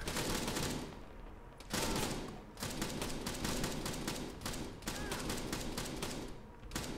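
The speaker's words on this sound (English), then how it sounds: "Why are you shooting me?" Gunfire in the Arma 3 military video game: loud, continuous rapid shooting throughout, with bursts of automatic fire and brief gaps, close and dominant with no talk.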